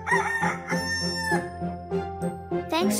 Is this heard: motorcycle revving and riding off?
no